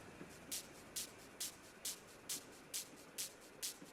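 Faint filler hi-hat sample with reverb from a bass house track ticks eight times at a steady, even pulse, each short crisp hit trailing off softly over a low hiss.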